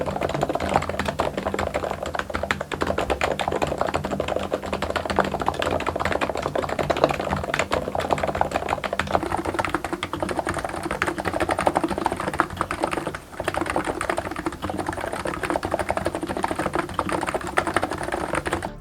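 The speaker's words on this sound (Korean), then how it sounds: "그럼 바로 한번 타이핑을 시작해 보도록 하겠습니다" Steady typing on Cox Endeavor and Abko V2 electrostatic capacitive keyboards with low-profile keycaps and no dampening foam: a dense, continuous run of clacky keystrokes, close and loud, with no voices.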